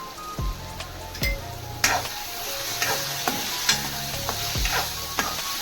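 Finely chopped tomatoes fry in a pan for a corn curry, a soft sizzle under repeated scraping and knocking of a spoon against the pan as they are stirred, close and clear.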